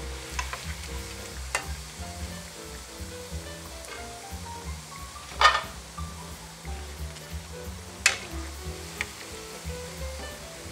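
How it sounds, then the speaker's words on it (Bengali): Onion piaju fritters deep-fry in hot oil with a continuous low bubbling sizzle, punctuated by a few sharp clinks and scrapes from lifting them out. "আমাদের অনেক মচমচে ভাজা হয়ে গেছে, আর বেশিক্ষণ রাখলে এটা তেতো হয়ে যাবে।"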